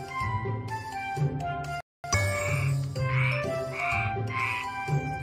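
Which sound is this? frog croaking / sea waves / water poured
frog croaking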